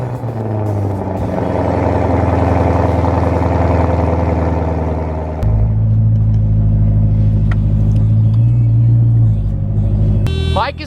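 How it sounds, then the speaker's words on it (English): A ZR1 engine cold-starts on a morning, settling into a loud, steady idle rumble that steps up to a higher, heavier drone midway, close and dominant throughout. "I think it's time for an 8 o'clock in the morning ZR1 cold startup."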